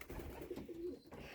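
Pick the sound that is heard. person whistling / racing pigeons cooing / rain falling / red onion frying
racing pigeons cooing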